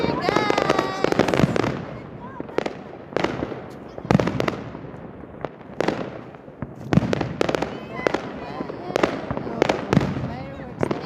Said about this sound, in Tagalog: Fireworks na nakikita.